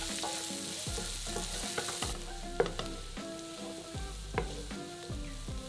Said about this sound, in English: we're going to add a finely diced onion to the pan and cook it for 3 to 5 minutes